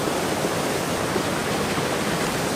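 Water draining into a low, dried-up river at a fishing spot, a loud, dense, unbroken rushing hiss like a small cascade, close to the microphone and steady throughout, with no talking.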